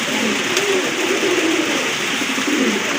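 A pair of red indigo Rajgolla pigeons cooing close by, soft low rolling coos repeating over a steady background hiss.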